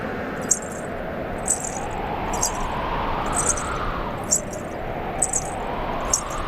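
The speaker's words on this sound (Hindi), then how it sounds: "ये किसके पायल की ध्वनि है?" Anklet bells jingle in a rhythmic series of light, bright clusters, roughly one per second, like steady footsteps. They sit faintly over a dense wash of background music and ambience in a Hindi mythological TV drama.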